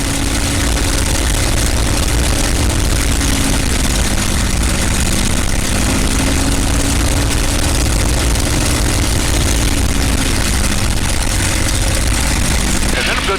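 The Crazy Horse 2 aircraft's piston engine runs at high power during a propeller check, a loud, dense, continuous roar with a low droning tone that wavers slowly up and down as the prop cycles.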